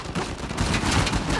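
Blind-fire gunfire in Uncharted 4 multiplayer, a rapid burst of dense, loud shots rattling continuously with no pauses.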